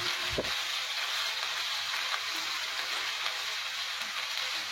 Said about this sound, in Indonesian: Bumbunya ditumis sampai harum, sampai mateng banget.